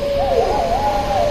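A single owl hoots in a smooth, wavering tone, clear and fairly close, with no talking.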